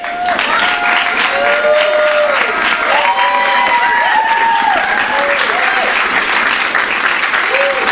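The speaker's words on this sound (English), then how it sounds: "Let's please give him a warm round of applause." An audience at a book event for the novel The Devil's Half Mile claps warmly in steady, dense applause that holds at full strength from start to finish. Melodic whistles and voices run through it, and no one speaks clearly.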